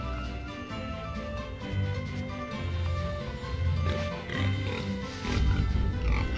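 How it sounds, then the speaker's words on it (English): A prickle boar, a boar-like creature in the Tales of Zestiria video game, gives low grunting snorts over a continuous bed of game music and ambience. "There's a prickle boar."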